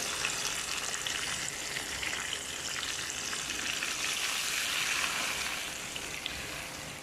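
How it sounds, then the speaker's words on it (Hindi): Marinated beef frying in a handi pot gives a steady, close, broadband sizzle that holds at an even loudness throughout, with no voices. "जो मैंने गोश्त को रखा था मैरिनेट करके, वो मैंने अभी इसमें डाल दिया"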